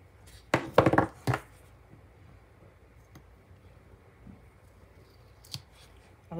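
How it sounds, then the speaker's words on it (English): Scissors trim planner paper in a few quick, crisp snips close by, followed by faint clicks and a last short cut in an otherwise quiet room. "I'm going to trim this down."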